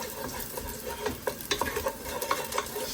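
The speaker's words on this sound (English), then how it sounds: "So you cook them for about a minute, just to let them get soaked in with that wee bit of olive oil in there." Garlic sizzles in a little olive oil in a pan for homemade chilli, a soft steady crackle broken by several spoon scrapes and light clinks, fairly quiet and with no voices.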